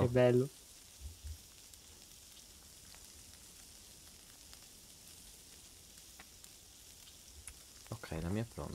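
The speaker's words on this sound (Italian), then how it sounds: "Senti il rumore della carne come sfrigola sì" Meat sizzles as it cooks in the video game Sons Of The Forest, a faint, continuous crackling hiss, with voices speaking briefly at the start and the end.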